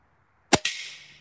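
A compound crossbow fires at a riot shield: a sharp snap of the release followed a split second later by a loud impact crack with a hissing, ringing tail.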